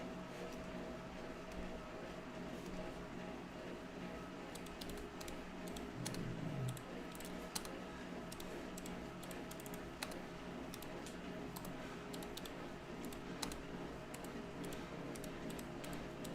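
Keyboard typing during an easy indoor Zwift cycling session, soft irregular clicks and taps over a constant low mechanical hum from the trainer, faint and close.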